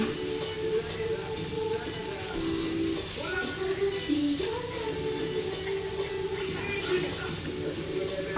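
Garlic fries in a cast iron pan, a continuous bright sizzle and crackle held at close range, with faint tonal clinks of stirring underneath.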